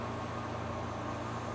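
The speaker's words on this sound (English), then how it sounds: "If you hear a little buzz in the background, I've got the AC on in the window." A window air conditioner hums steadily in a room, a low continuous buzz with broadband hiss, constant and fairly faint with no talk over it.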